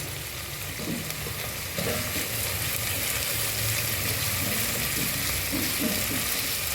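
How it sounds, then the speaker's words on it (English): Crushed ginger and garlic paste frying in a pan for a stew, a dense continuous sizzle that thickens after a fresh addition, with faint stirring noises and a voice murmuring underneath. "I am then going to add some crushed ginger and garlic paste."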